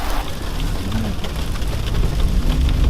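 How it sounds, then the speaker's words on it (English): Freezing rain falls in a steady, even hiss, dense and continuous throughout with a faint low rumble beneath and no voices. "it's freezing rain"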